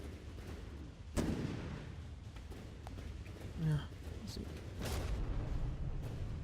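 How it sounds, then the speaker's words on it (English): Multiple shells striking battlecruiser turrets in the naval combat game From the Depths, dull booms and muffled blasts rumbling in and out at a distance beneath someone talking. "Oh, must have just been multiple shells hitting that turret."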